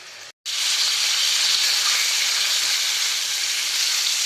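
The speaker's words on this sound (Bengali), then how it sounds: "আমি কিন্তু মাছের তেলটিকে ভেজে নেব" Fish fat frying in a wok for a Bengali fish-fat bharta, with salt added. After a brief moment of silence a loud, steady, close sizzle sets in and holds without a break. No talking.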